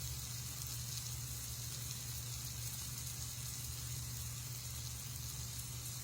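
A sandwich roll laid face down in mayonnaise on a hot griddle, giving a steady, soft sizzle that holds evenly throughout with no talk.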